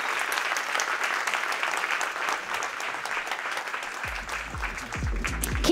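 An audience at a conference pitch event applauds steadily for a speaker coming onstage, a dense sustained wash of clapping, with a voice starting to speak over it near the end.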